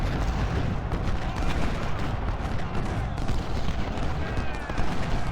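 Continuous battle din from a Civil War strategy game, Ultimate General: Civil War, at Shiloh, with dense rumbling artillery fire and musketry rolling together steadily throughout, loud and unbroken, with a voice talking at times.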